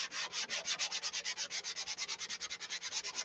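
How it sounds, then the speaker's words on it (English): Hand sanding of dope-coated fabric covering on a light aircraft, done between coats before color goes on: a fast, even back-and-forth rasp, close and fairly soft, with no voices. "So the better I can get it sanded out, the better the color will lay on it."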